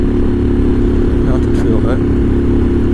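A Royal Enfield Himalayan motorcycle engine with a 16-tooth sprocket drones steadily under load in fifth gear, a low continuous hum with someone speaking briefly over it.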